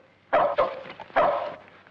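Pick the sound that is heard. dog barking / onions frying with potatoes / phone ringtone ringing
dog barking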